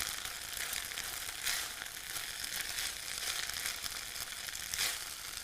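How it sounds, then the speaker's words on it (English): Rice and curry sauce bubble and sizzle steadily in a pot, a constant close hiss with small crackling pops and no talking. "The rice and sauce are still boiling away."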